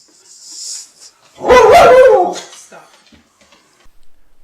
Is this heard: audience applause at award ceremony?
no